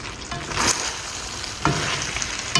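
Bicol Express with green beans, meat and coconut milk stirred in a pan, sizzling steadily with bursts of scraping utensil strokes against the pan at irregular intervals, close and fairly loud, with no talking.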